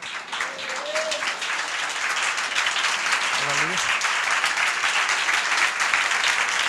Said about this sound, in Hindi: तालियां आप इससे ज्यादा अच्छी बजा सकते थे।